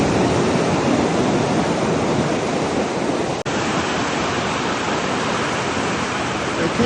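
Ocean waves wash onto a beach in a steady, loud, broadband roar of surf that continues throughout, with one brief dropout midway.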